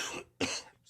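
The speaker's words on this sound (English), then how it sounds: "Sorry, I got a little cough." A person coughs twice in quick succession, close and fairly loud, with a brief gap and a softer tail, no other talk around it.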